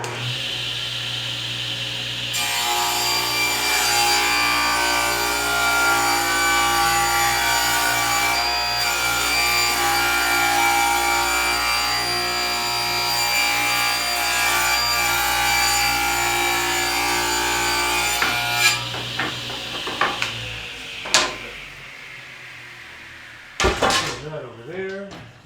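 A circular saw cuts through wood in one long continuous whine, loud and close, then winds down to clatter and handling noises at the end.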